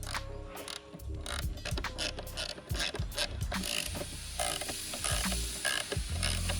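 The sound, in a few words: ratchet tightening a BMW 840ci sway bar link bolt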